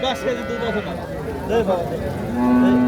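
Jersey cow lowing at a busy rural cattle market, a drawn-out moo heard close under the steady chatter of people talking nearby.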